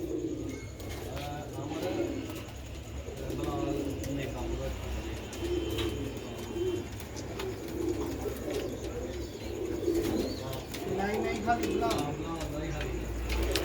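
Black-faced Sialkoti pigeons coo in soft, repeated low throaty calls on a rooftop, steady throughout and mixed with someone talking.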